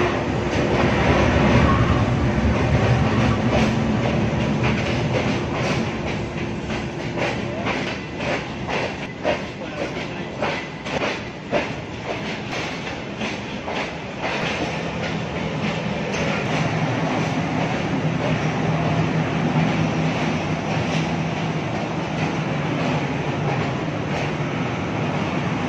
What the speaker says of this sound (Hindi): ये ले जी ट्रेन रुकने लगी है।